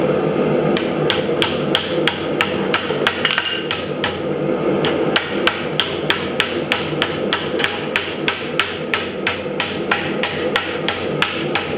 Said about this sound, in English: On the horn of the anvil, we'll round out the upper mandible.